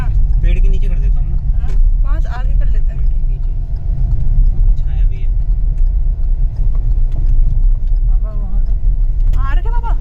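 A car engine idles and rumbles low and steady while parking under a tree on a hill in Uttarakhand, with people talking over it throughout.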